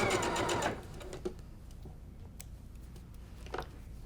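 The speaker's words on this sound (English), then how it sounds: "sewing table just like this and start sewing" A sewing machine stitches quilt-top sashing in a fast, steady mechanical whir for under a second, then stops, leaving quiet room tone with a few faint clicks and soft handling sounds.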